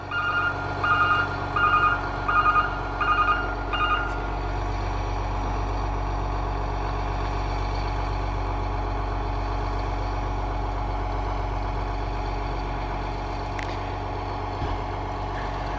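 A Tigercat forestry machine's engine idles at a steady low rumble, with a short run of repeated reversing beeps near the start and no talking.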